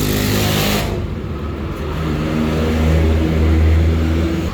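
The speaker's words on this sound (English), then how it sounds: "Man, this truck is doing great, boy. It is pulling this boat like a champ." Pickup truck engine towing a Sea Ray cruiser boat down from the mountains, a loud, close, sustained drone that rises slightly as the truck pulls under load, with no talking.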